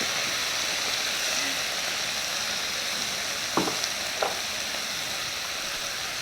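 Rum is poured into a pan of cauliflower and sweet potato soup, and a steady broadband sizzle hisses throughout. Two brief splashes or clinks stand out near the end, and no one speaks.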